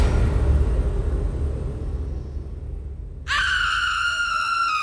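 A woman's sustained, piercing scream cuts in abruptly as a sound effect in a narrated Venezuelan village story, loud and continuous after a low rumbling background.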